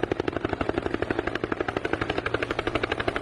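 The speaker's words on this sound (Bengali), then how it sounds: "shallow machine" A shallow tube-well irrigation pump engine runs steadily nearby, a loud, fast, rhythmic chugging with rapid regular pulses and no pauses.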